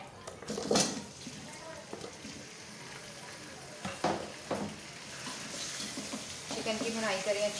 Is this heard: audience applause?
no